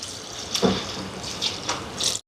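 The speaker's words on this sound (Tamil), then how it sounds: "தேங்காய் பால் சேர்க்குறேன்." Coconut milk, the first thick extract, poured into a pot of ground-masala fish curry, making a soft liquid splash and trickle in a few brief bursts with no talking.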